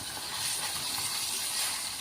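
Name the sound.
fish frying in a pan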